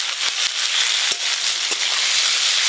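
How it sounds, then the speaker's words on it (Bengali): Steamed taro stolons fry with chilli powder and salt, a loud, dense sizzling hiss broken by several dull taps and scrapes of a spatula stirring and breaking them up. "এইভাবে নাড়তে নাড়তে খুন্তি দিয়ে একটু ভেঙে ভেঙে"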